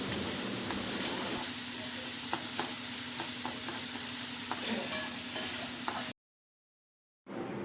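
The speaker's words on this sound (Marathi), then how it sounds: "बारीक केलेला कांदा तेलामध्ये गोल्डन ब्राऊन होईपर्यंत भाजून घ्यायचा आहे आणि कढीपत्ताही त्याच्यामध्ये" Chopped onion and curry leaves fry in hot oil for a quick egg curry, a steady, dense sizzle with faint stirring scrapes that runs close and loud, then cuts out briefly to silence before resuming.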